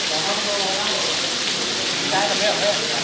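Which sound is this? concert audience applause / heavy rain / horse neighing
heavy rain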